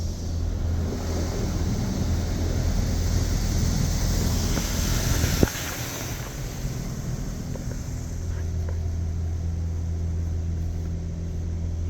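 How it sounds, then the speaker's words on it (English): A Washworld Razor EDGE automatic car wash at Northshore Mobil in Mequon, Wisconsin sprays tricolor foam onto a car, heard from inside as a steady broad hiss over a low rumble, with a brief thump midway. "A tricolor foam product is now being applied."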